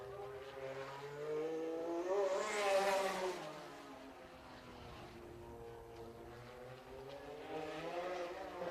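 A Little 500 race car laps Anderson Speedway on pole day, its engine note climbing into a loud, high pass and then easing off. The tone rises again as the car comes back around, with no talk over it.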